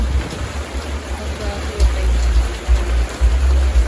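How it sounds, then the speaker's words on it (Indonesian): Rain falls at Telaga Ngebel lake in a steady broadband hiss, with low gusts of wind buffeting the microphone throughout. "Hujan."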